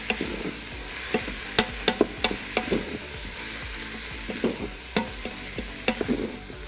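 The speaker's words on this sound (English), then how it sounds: "I'm just gonna mix around." Garlic and other ingredients stirred in a hot Instant Pot, a soft sizzle under repeated close scraping and clacking of a utensil against the pot at an uneven pace.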